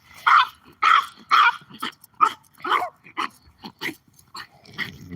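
Several dogs bark in a rapid series of loud, close bursts, with rougher growling and yipping mixed in toward the end.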